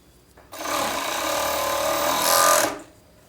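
A sewing machine sews a T-shirt shoulder seam in one continuous run of about two seconds, loud, close and smooth, starting abruptly and stopping cleanly.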